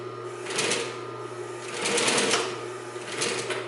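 A Consew 226R industrial sewing machine stitches fabric with a steady, close mechanical whir and rapid needle chatter that swells and eases, while a low motor hum runs under it throughout.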